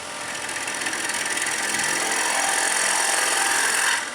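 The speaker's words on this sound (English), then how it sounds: "Right now the piece of work is spinning at about 1300 RPM." Wood lathe spinning a workpiece at about 1300 RPM during hollowing with an articulated arm system, giving a steady broadband whirring and scraping rub that holds level and continuous before cutting off near the end.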